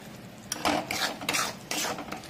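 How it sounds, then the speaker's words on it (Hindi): Masala spices for poppy-seed paneer stirred and roasted in a pan: repeated scraping strokes of a metal spoon against the pan, with clinks and a soft sizzle underneath, close and steady, no voices. "मसाला को हम तब तक भूंजेंगे जब तक कि मसाला से तेल अलग ना होने लग जाए"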